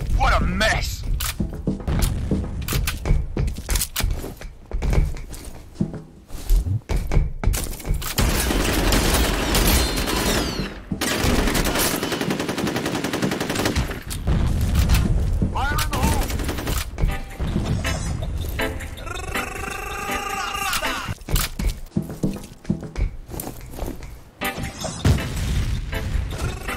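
Loud gunfire and booming blasts from the F.E.A.R. Combat shooter game, including a grenade explosion, crowd a dense stretch of rapid shots. Game voices and a player's talk are heard throughout.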